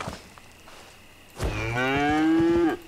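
A cow in the Albion Online video game lets out one long, drawn-out moo that swells and then cuts off, following a quiet stretch of low in-game ambience.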